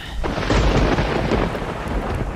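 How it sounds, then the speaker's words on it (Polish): Thunderstorm in the Red Dead Redemption video game: a loud, rolling rumble of thunder over dense, steady rain, close and filling the whole stretch, with no talking. "Ostra burza."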